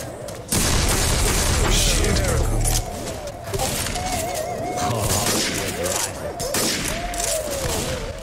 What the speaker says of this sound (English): it also plays Childish Gambino every time you fire it.